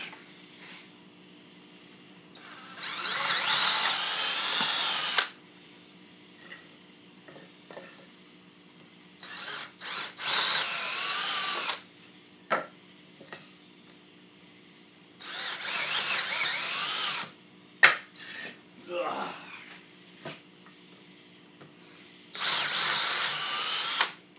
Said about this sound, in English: all I'm doing is drilling about an inch hole